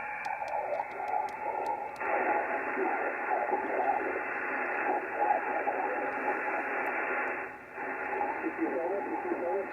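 Weak QRP SSB amateur radio station heard through a receiver with no DSP, its faint voice buried in steady hiss and adjacent-channel interference, with occasional clicks and dips in the noise throughout.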